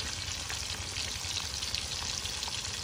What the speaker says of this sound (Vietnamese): Cá này chiên mỡ ngon, chiên cho giòn